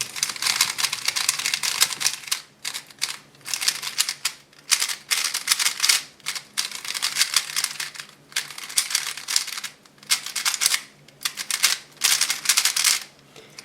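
Rapid clicky plastic clacking in bursts separated by short pauses, from a dry, unlubricated Rubik's cube being twisted quickly; close and fairly quiet.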